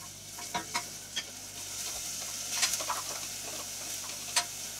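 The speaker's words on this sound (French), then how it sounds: "Je vais faire revenir mes petites échalotes dans du beurre." Finely chopped shallots cook in butter in a very hot saucepan, giving a quiet steady sizzle punctuated by several sharp clicks and scrapes of stirring.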